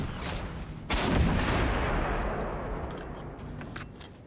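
An orbital bombardment strike in the game Generation Zero lands as a sudden heavy boom about a second in, followed by a long rumbling roar that slowly fades, with a few sharp distant cracks trailing behind.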